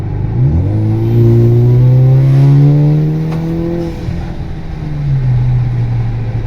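Freshly built 4-cylinder turbo Camaro engine at full throttle on its first drive, loud and close, revving up through a rising pitch, holding high, then easing briefly before climbing again.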